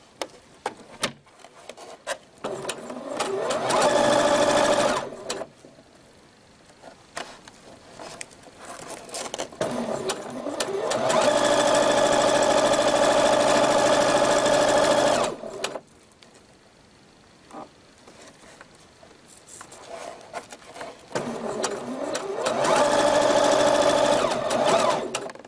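A sewing machine stitches the seam of a fabric produce bag in three steady buzzing runs, close and clear, separated by quiet pauses with soft handling of the cloth.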